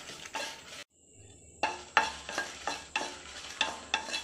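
Red chillies dry roasting in a pan with very little oil for amla (gooseberry) powder give a close, repeated dry stirring and light rattling, with a brief quiet pause before the stirring strokes resume in a steady rhythm.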